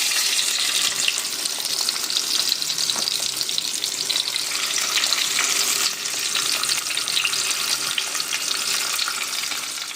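Marinated rupchanda pomfret fish fries steadily in hot oil, a dense continuous sizzle that stays loud and close throughout with faint crackles and no talking.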